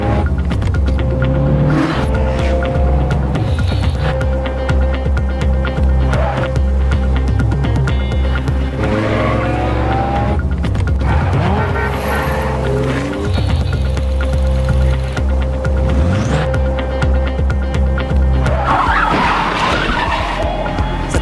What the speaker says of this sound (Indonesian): Cheng langsung gaspol setelah menemukan mobil BMW itu.